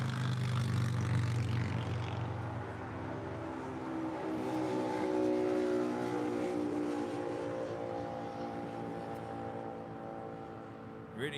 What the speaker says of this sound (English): we have the China Airlines Cargo 777 freighter now rolling